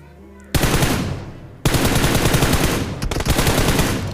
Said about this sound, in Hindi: अभी देखो जैसे इसका टायर फोड़ूंगा दोनों, अब वो बंदा मेरे पे फायर देगा।